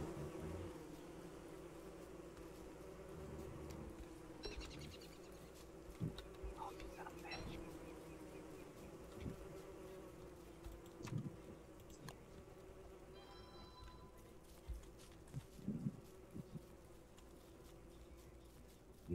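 Killer bees in a survival video game, a faint continuous insect buzz with a low steady drone, soft and distant, with scattered small clicks and taps on top.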